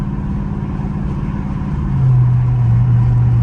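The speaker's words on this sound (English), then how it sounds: "Give y'all a few little downshifts here" A Dodge Scat Pack's engine drones low and steady on a street, then its pitch jumps and holds higher as the revs rise with a downshift, loud and close.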